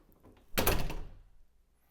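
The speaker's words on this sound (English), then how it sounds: "it's not slamming as hard because as it's closing, it's hitting that HushBump" An interior door swings shut and meets a HushBump bumper, giving a single soft, muffled thunk with a short rattle close by, the slam cushioned rather than sharp, in a quiet room.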